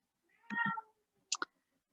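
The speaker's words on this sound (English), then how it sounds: "before my cat goes completely insane, which I'm not sure if you can hear" A pet cat meows loudly and close by, one drawn-out meow followed by a short clipped double call, in an otherwise quiet room.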